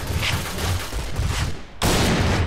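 Sniper rifle fire in the video game Point Blank: a dense, loud roar of gunfire with a sharp fresh blast near the end, heard up close with no talking.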